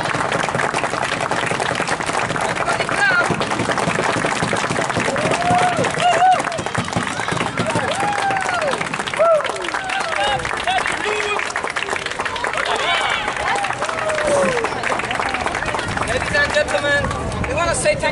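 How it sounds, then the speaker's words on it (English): An outdoor crowd watching street dancers claps steadily and continuously, the applause mixed with murmuring voices and background bustle over a long stretch. "Everybody clap, come on."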